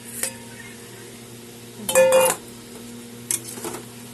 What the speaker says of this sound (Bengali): আর এখন দিয়ে দেবো ভেজে রাখা ট্যাংরা মাছগুলো আর বেগুন একসাথে আছে